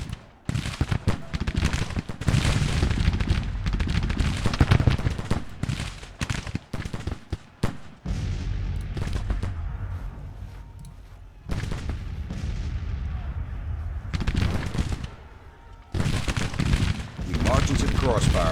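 Civil War musket crossfire and cannon fire in Grand Tactician: loud volleys of rolling gunfire and heavy booms come in waves, broken by brief quieter gaps, with a voice speaking over parts of it.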